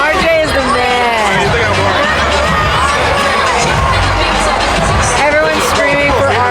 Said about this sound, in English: Everyone's screaming for RJ.